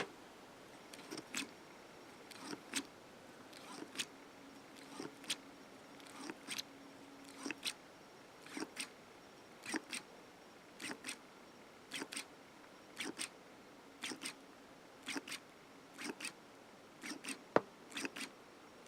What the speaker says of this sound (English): We're going to compress the bolt and release so you can see both the bolts